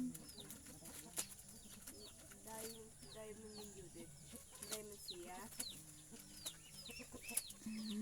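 Chickens kept on a farm cluck repeatedly at close range in an irregular, busy rhythm, with scattered background noise and faint speech underneath.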